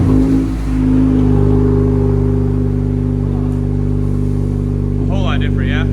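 A 2024 Honda Civic Type R 2.0L turbo fitted with an AWE cat-back exhaust idles with a steady, loud low drone that holds throughout, and a voice briefly speaks near the end.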